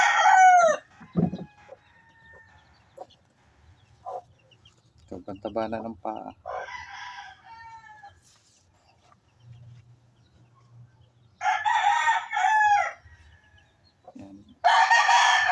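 Several gamefowl roosters crow loudly in separate bursts, with clucking and someone speaking briefly between the calls.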